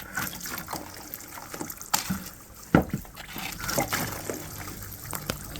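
Dry cement mix is poured slowly into water for homemade casting, giving a faint, uneven trickle with soft splashes and occasional knocks, close by and with no talk.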